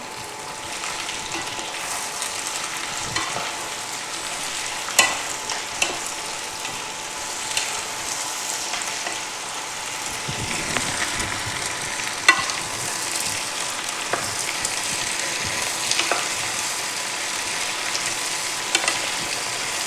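Tomato and onion curry frying in a pan while it is stirred, giving a continuous sizzle broken by scraping and clinking from the spoon, with no voices.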